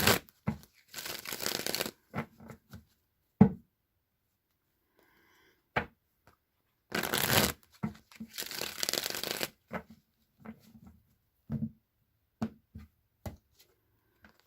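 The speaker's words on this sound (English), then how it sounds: "So now I'm going to shuffle the Rider-Waite deck 3 times" A Rider-Waite tarot deck is shuffled by hand in several bursts of crisp riffling and card slaps, separated by short pauses and soft handling noises, close and fairly quiet.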